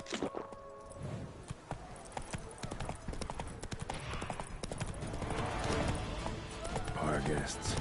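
Roach, the horse in The Witcher 3: Blood and Wine, gallops in quick, rhythmic hoofbeats that build louder and busier, accompanied by game ambience and occasional voice.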